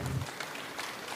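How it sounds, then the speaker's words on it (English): Steady applause at a memorial gathering for High Chief Raymond Anthony Dokpesi, a dense, even patter of many hands sustained throughout without a break. "Another round of applause, please."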